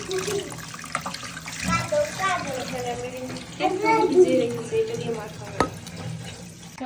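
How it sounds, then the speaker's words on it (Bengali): Watermelon rinds being washed by hand in water, with splashing and sloshing close by under ongoing speech. "প্রথমে আমরা ভালোভাবে ধুয়ে দিতে হবে"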